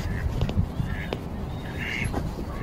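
Several wild ducks quack intermittently nearby, short nasal calls scattered over a noisy outdoor background with faint murmuring.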